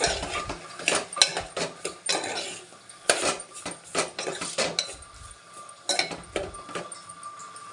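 Ginger garlic paste is stirred in a frying pan, with a metal spoon scraping and clinking against the pan in irregular bursts, close and moderately loud.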